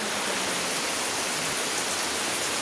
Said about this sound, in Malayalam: പക്ഷെ ഭയങ്കര മഴ